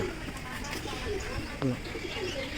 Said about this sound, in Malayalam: പല പല വെറൈറ്റി പ്രാവുകൾ